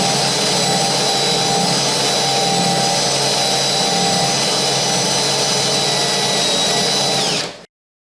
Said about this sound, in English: So now I need to drill a couple of white holes here, a red hole in the center there, drill hole there.